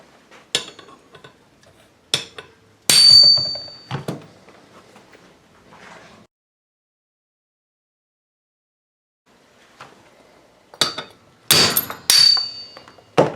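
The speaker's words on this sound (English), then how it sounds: "I'm going to take a hammer. I'm going to drive them straight out that way" A hammer drives push rod tubes out of a heated cylinder from a 1983 BMW R100RS motorcycle, several sharp metallic strikes in uneven bursts, loud and close, with a quiet pause between groups of blows.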